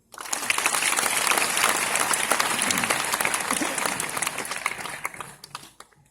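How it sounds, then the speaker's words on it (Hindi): A crowd at a Hindi poetry gathering at IIT Kanpur claps, the applause starting after a short silence, holding as a lively, crisp patter, then thinning into scattered claps before fading out. "एक बार ताली बजाऊं"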